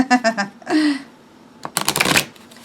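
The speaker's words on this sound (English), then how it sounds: "very difficult for me to shuffle, rifle shuffle" An oracle card deck being rifle shuffled, with two bursts of rapid riffling flutter separated by a short pause, close and fairly loud. Some faint vocal sounds come in at the start.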